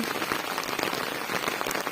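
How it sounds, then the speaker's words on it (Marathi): Steady monsoon rain pours on an open farm field, a dense, even hiss of drops close by with no break. "पाऊस बंदच व्हायचं नाव काही घेत नाही"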